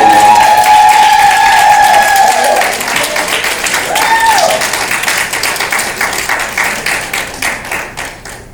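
Banquet guests give sustained applause that starts strong and slowly thins, with a few held tones sounding over the first seconds and scattered claps continuing to the end.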